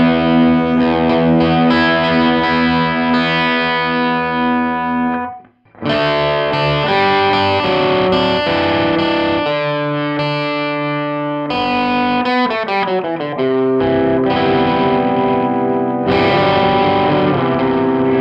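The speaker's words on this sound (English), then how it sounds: "Let's hear like a big power chord." Distorted power chords on a Hagstrom Viking semi-hollow electric guitar ring loud and thick, with a brief silent gap before a run of further chords and riffs strummed close and sustained.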